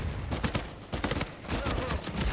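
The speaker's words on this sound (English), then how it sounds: "Dude is shooting at the fucking guy" Rapid bursts of gunfire in an Uncharted 4 multiplayer match, dense overlapping shots crackling loudly over about two seconds with no pauses.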